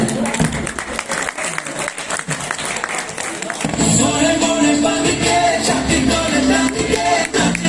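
Applause and cheering from a crowd at a wedding welcome party, greeting the groom's entrance. The sound swells loud and dense after a quieter, talk-filled start, with bangs mixed into the clapping.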